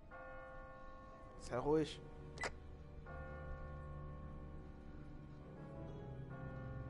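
Church bell struck in a bell tower in the video game The Walking Dead, a couple of brief rings heard faintly beneath a steady music bed, with a voice speaking before and after.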